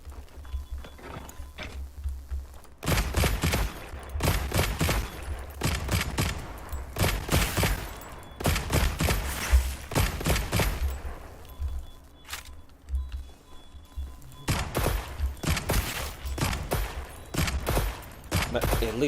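Heavy bowgun firing in Monster Hunter Wilds: repeated loud volleys of rapid shots in bursts with short pauses between them, sharp and close throughout.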